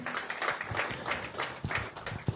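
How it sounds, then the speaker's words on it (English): An audience at a business innovation event applauds: fairly faint, dense, continuous clapping from many hands with no clear rhythm, sounding from across the room. "Round of applause."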